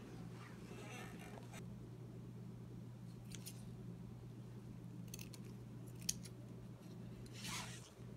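Scissors snip away excess fabric at a hem on a jingle dress, a few quick, faint cuts spread across a steady low hum, with no talking.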